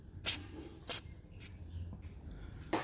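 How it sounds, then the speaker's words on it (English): Short bursts of grease lubricant sprayed from an aerosol can into the door check hole of a Kia Sportage door, two sharp hissing spurts close together, a fainter puff, then a final spurt, with quiet room noise between. "Spray a small amount of grease into this hole to ensure smooth movement of the door check."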